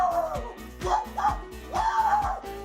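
A dog barks and yips in several quick bursts of rising and falling pitch, close and fairly loud, with a faint sound like a nearby voice underneath.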